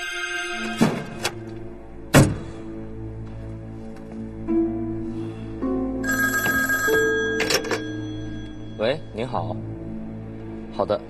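Old-fashioned telephone ringing indoors in a spy drama, repeated bell rings interspersed with people talking and a few thumps.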